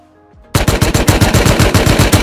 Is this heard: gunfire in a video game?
yes